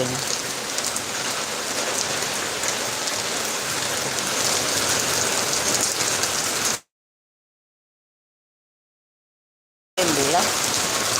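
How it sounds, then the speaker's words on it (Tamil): A sudden downpour of heavy rain pelts nearby surfaces in a loud, continuous rush. It cuts to silence for about three seconds, then the rain resumes with a voice faintly audible. "மேகமே இல்லாமல் தான் இருந்தது ஆனால் மழை எப்படி வருது"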